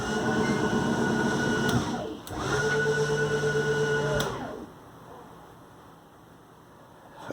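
The slide-out motor on a 2020 Flagstaff 25KS travel trailer drones loudly and steadily, stops briefly, then starts again with a strained whirring tone before cutting off and leaving a quieter hum.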